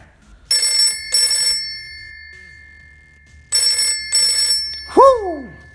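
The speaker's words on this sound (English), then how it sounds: "here's the ringtone." An old-style telephone bell rings in two bursts, pauses, rings twice more, then a brief rising-falling whoop follows.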